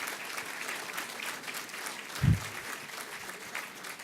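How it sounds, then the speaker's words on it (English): A City Club of Chicago luncheon audience gives a sustained round of applause, a steady even wash of many hands clapping, with one brief low thump partway through. "let's give him a round of applause"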